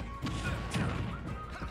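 A grenade hit landing in a Super Smash Bros match: a dense, crunchy crash around the middle, with a few thumping impacts over steady game noise and music.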